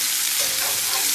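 Onions sizzling in a pan while being stirred heavily, a brief, loud, dense hiss of frying close up, with no talking.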